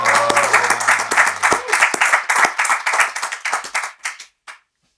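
Studio audience applauding a guest guitarist on an Indonesian talk show, a dense burst of clapping that thins out and fades to scattered claps over about four seconds.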